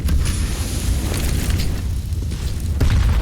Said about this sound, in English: Oh, good nade.